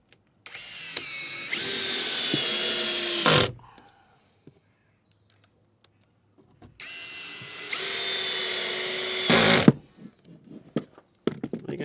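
A power drill drives screws into the overhead cab storage of a van conversion in two long whirring bursts, each a few seconds long, close and loud with quiet gaps between them and a few knocks afterward.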